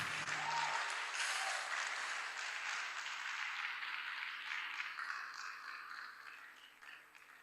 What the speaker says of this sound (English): I can hear a section of the audience giving us the loudest applause